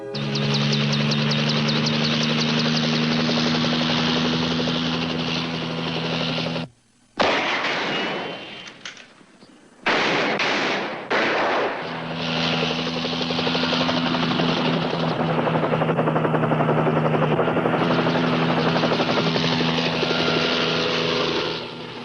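A helicopter passes overhead, its loud rotor and engine thrum filling most of the span, cutting out twice for a few seconds before returning steady and strong.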